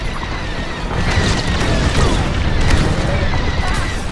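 A starfighter takes a hit in Star Wars: Squadrons, a dense rumbling crash of impact and explosion noise that stays loud throughout the short burst.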